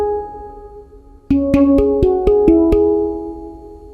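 Sonixinema Hang Drum virtual instrument: a sustained pad-like tone, then six evenly spaced struck metallic notes with bright attacks and ringing, overlapping decays, fairly loud and close, no talking.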